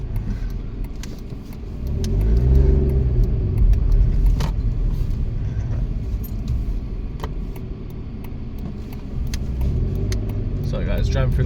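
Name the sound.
car driving through London streets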